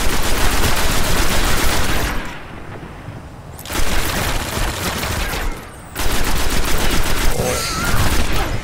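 Rapid gunfire and sharp sniper shots in the video game Destiny, dense bursts with short lulls between volleys, loud and close throughout.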